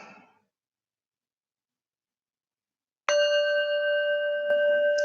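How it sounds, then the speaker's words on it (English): A meditation bell is struck once, ringing out with a clear sustained tone that lingers evenly for a couple of seconds after a brief pause, with a faint second tap near the end. "we will be starting with our bell taps and an Om"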